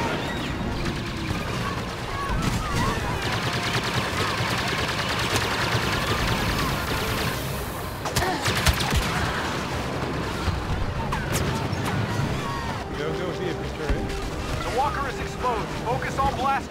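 Dense blaster and weapon fire aimed at an AT-AT walker in Star Wars Battlefront's Walker Assault on Sorosuub Centroplex, a continuous loud barrage of shots and crashes with voices over it.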